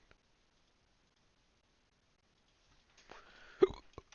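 A single person hiccups after near silence, a short burst of breathy throat noise with one sharp, close hiccup at its peak.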